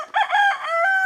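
A rooster crows in one loud, sustained call with bright rising and falling tones, close by in a farm setting with hens, alone without talk.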